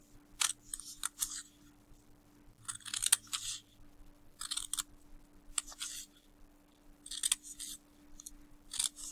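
Scissors snipping paper along folded lines to make a 3D paper salmon, with short repeated bursts of crisp cutting separated by brief pauses, close and fairly quiet over a faint steady hum.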